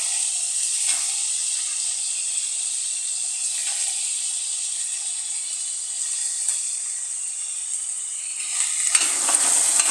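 Peas and potatoes fry in a pan with a steady, bright sizzle and hiss, close and even throughout, with a few soft stirring knocks and a brief louder crackle near the end.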